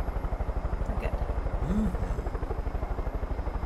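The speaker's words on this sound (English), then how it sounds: "we could realistically just blow it all up with our helicopter" A video game helicopter engine drones with a steady, fast rotor chop, a rhythmic low thudding pulse that continues unbroken and moderately loud throughout.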